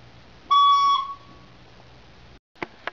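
A single recorder note sounded with the thumb hole covered and all other holes open: a clear, steady whistle-like tone lasting about half a second, followed by a few faint clicks.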